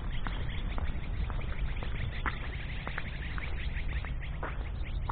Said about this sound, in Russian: Это даже не птички, сороки.